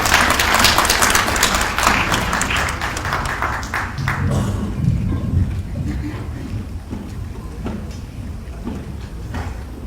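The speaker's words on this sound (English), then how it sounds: "please give her a round of applause as she comes to speak to us." An audience claps loudly as a speaker heads to the stage at a formal address, the applause thinning and fading over several seconds into room noise and murmur.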